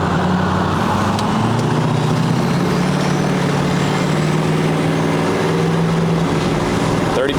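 A 6.4 diesel truck engine accelerating hard at full throttle: a loud, steady, close-up roar with a deep rumbling drone that pushes on for several seconds without a break.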